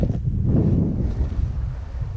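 Strong wind buffets the microphone on a mountain summit near Jefferson in the Northern Presidentials, a loud low roar with gusty swells, with no voices.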